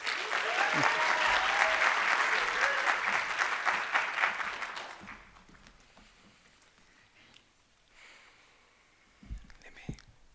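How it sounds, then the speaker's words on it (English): A conference audience at an opening plenary applauds a speaker named Bradley, dense loud clapping for about five seconds that fades out, followed by quieter room noise with a few scattered knocks and rustles. "Let's give Bradley a warm round of applause."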